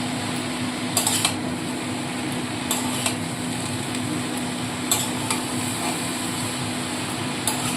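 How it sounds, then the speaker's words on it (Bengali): Bottle gourd shukto is stirred in a pan over a steady cooking hiss, with a few sharp metallic clinks and scrapes of the spoon against the pan at irregular intervals. "এবার খুব ভালো করে নাড়াচাড়া করে নিতে হবে"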